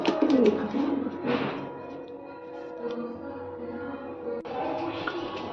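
Fancy pigeons cooing at a pigeon farm in West Bengal, several soft, low, rolling coos repeating close by, with faint background noise and a short burst of talk.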